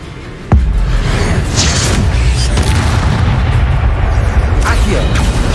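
An Incendio fire spell bursts in Hogwarts Legacy with a sharp, loud boom near the start, then a continuous roaring rumble of flames and game effects, with a voice mixed in.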